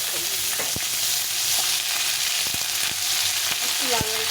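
Onion frying in hot oil with a dried red chili and cumin seeds, giving a continuous loud sizzle with intermittent sharp clinks and scrapes of a utensil stirring in the pan.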